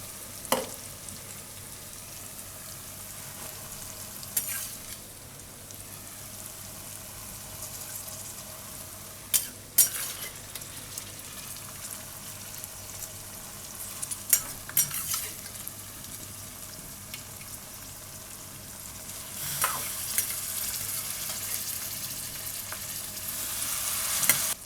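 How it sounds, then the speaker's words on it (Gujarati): Corn being stirred into a tomato curry in a pan on low heat for makai saragva shaak, a quiet steady sizzle broken by occasional spoon scrapes and clinks against the pan. "મકાઈ આપણે આમાં મિક્સ કરી દઈશું."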